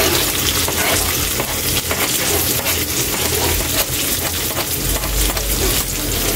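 Onion and beef sautéing in a pan for bistek tagalog, a steady broadband sizzle and frying hiss running throughout at close range, with occasional stirring scrapes and no talk.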